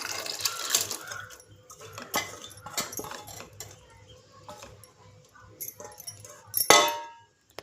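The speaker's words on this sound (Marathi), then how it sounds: "आता उरलेलं कडधान्याचं पाणी आणि शिजवलेलं कडधान्य सगळं यात टाकून घेऊया." Cooked sprouts and their cooking water poured into a pot for spiced rice, with scattered metallic clinks and clangs of utensil against pot, soft splashes and a sharper clatter near the end, fairly close.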